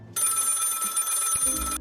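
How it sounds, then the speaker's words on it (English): A telephone in a video game rings with a loud, continuous electronic bell trill that stops abruptly, followed by a few low thumps. "Phone is ringing."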